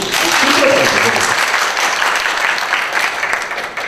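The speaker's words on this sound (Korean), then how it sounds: "박수 주셔서" Audience applause fills a lecture hall for a government officials' training talk, steady and dense throughout, with a brief voice at the start and the clapping tapering slightly near the end.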